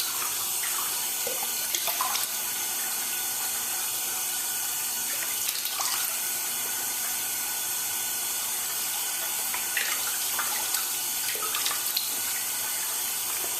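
Cold water runs steadily from a bathroom sink tap during a wet shave with a Merkur 23c safety razor, a continuous close hiss and splash with faint clinks, no talking.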